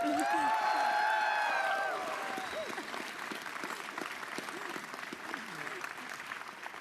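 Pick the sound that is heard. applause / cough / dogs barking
applause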